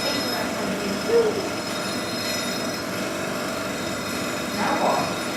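A train rolls steadily along the track, its wheels letting out high, piercing squeals that rise twice over a constant rumble, loud and close with no talking.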